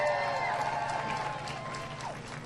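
A crowd at an outdoor barbecue competition on a hot, humid day gives a sustained wash of cheering and clapping, moderately distant and steady, with some chatter mixed in.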